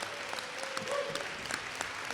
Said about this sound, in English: Let's give all the District 1 representative candidates a round of applause.